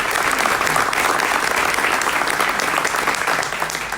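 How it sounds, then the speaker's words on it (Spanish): Loud, dense applause from a large conference crowd, continuous throughout and easing slightly at the end. "Un aplauso para María Blanco, por favor."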